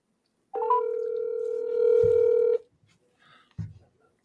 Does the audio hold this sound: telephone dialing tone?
yes